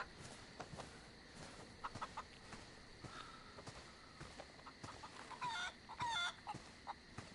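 A chicken in the survival game DayZ clucks faintly in scattered short calls among footsteps and ambient game noise, with no talk.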